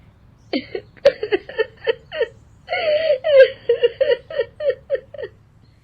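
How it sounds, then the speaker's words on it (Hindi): A woman cries and wails in an animated Hindi story, a loud sequence of sobbing, moaning bursts with rising and falling pitch, heard alone and close. "कौशल्या रोने लगती है"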